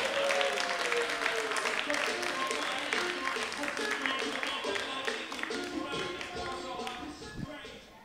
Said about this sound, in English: We need to build up the applause before he comes on because he's epic